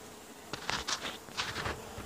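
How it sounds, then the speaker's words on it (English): Honey bees being moved into an observation hive after a cutout buzz faintly in short, overlapping bursts, a close, soft insect drone. "Just working on trying to get the bees moving here."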